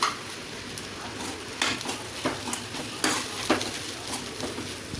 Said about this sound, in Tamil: இப்போ இது கூட தேங்காவை போட்டு இதையும் கிண்டிடலாம்.